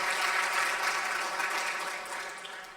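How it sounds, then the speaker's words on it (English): A summit audience claps together in a dense, steady wash of applause that holds for a few seconds and then gradually softens. "Can we give them a big, big round of applause?"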